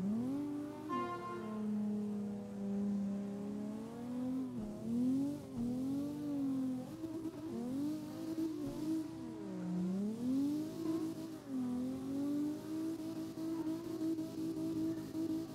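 A car engine in CarX Drift Racing Online revs and wavers as the throttle swings up and down, its tone sliding through repeated climbs and dips with brief cuts between, close and steady throughout.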